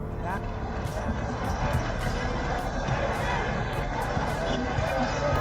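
Tractor engines rumble and roar during a head-to-head tractor tug-of-war in Tochan, with a noisy crowd shouting and chattering over the steady, loud engine drone.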